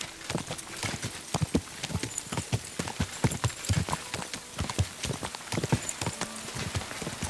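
Rapid, uneven clip-clopping of horse hooves in Kingdom Come: Deliverance II, close and continuous, with a brief whinny somewhere in the mix.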